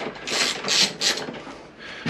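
A ratchet fitted with a 6mm Allen socket cracks loose the grab rail bolts on a Peugeot Django scooter, giving several short bursts of clicking and metallic grinding close by, with no talk.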